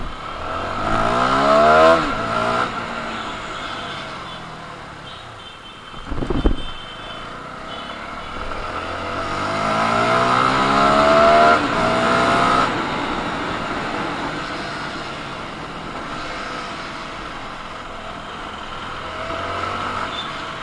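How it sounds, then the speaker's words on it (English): A CF Moto 300NK motorcycle accelerating on the road, its engine climbing through rising revs with gear changes and a brief thump, loud and close over wind rush for about twenty seconds. "let's check the power and delivery of the motorcycle"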